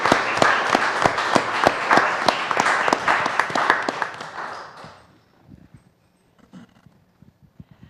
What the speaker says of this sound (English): let's give these gentlemen a round of applause for the work they do